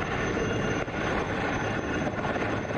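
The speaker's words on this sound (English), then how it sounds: "The indigenously constructed Chetak helicopter is now demonstrating the winching operation used for rescue and extraction in front of you" An Indian-built Chetak helicopter hovers during a rescue winching demonstration at a defence expo, its rotor and engine a loud, continuous roar with a steady churning throb that fills everything.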